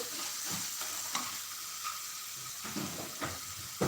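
Dry spice masala paste frying in oil for a homestyle black-eyed pea (chavli) curry, with the oil starting to separate. A steady close sizzle runs throughout, broken by a few clattering stirs of a spoon against the pan.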